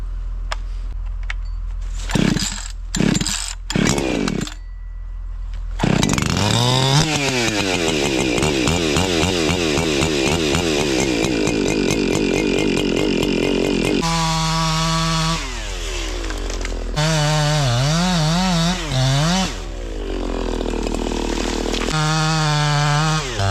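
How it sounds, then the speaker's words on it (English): A 50cc chainsaw cutting small trees into firewood, revving loud and close with rising and falling engine whine, short bursts early then long sustained cuts through the wood. "For a 50cc saw, that thing rips pretty good."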